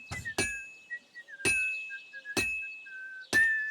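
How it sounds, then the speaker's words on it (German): Hammer blows on steel at a forge in Kingdom Come Deliverance 2: five sharp, ringing metallic strikes in an uneven rhythm, with a soft whistled tune drifting between them. "Immer schön hier einen Schlag neben den anderen setzen."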